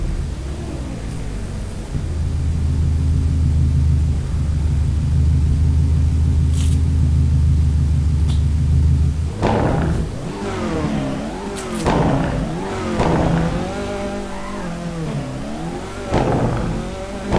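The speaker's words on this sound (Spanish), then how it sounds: "Vamos a escuchar un poquito el motor del coche." Citroën C4 WRC rally car engine in the Assetto Corsa racing game, a loud steady low drone for about nine seconds, then rising and falling revs with quick gear shifts and turbo surges.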